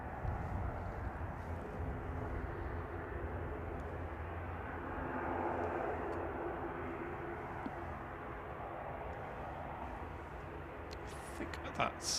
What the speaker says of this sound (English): Along with Orini, which is the grumbling prop you can probably hear in the background.